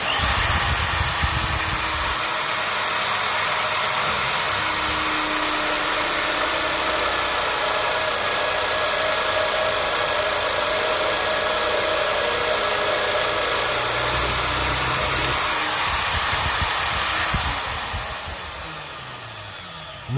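A power drill bores a hole through an aluminium slingshot core, a loud, steady high-pitched whine that holds for most of the time before winding down near the end.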